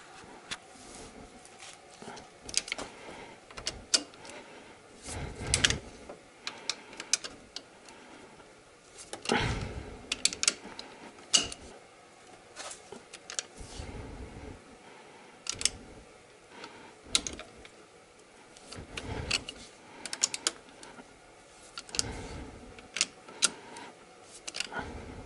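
A mechanic loosens cylinder head bolts on a Lada Priora engine with a ratchet, giving bursts of close metallic clicking and ticking, irregular and spaced out, along with a few clunks of tool contact.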